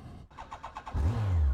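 Yamaha FJR 1300 four-cylinder motorcycle engine, 1298 cc with 16 valves and fuel injection, giving a few quick blips and then settling into a steady, loud, close-up drone.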